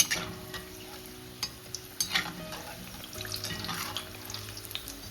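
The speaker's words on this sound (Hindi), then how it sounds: "जैसे ही हम फ्रोजन मोमोज गर्म तेल में डालते हैं" Low, steady sizzling of frozen momos frying in hot oil, with scattered clinks and bubbling pops as the pieces are stirred.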